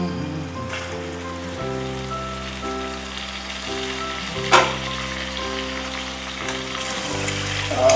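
Pork with lai sak greens frying in a wok, a steady loud sizzle and crackle running throughout with one sharp clatter midway, heard alone with soft background music.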